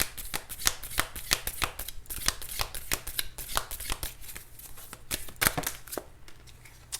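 Tarot cards being shuffled in a steady run of quick, crisp riffling snaps and flutters, close and fairly loud, with no talking.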